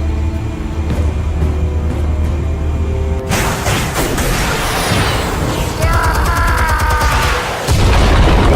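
Heavy explosives detonate in a Batman game scene: after a low droning hum, a loud booming blast hits at about three seconds, followed by crashing debris and mechanical rumble, with a second burst near the end.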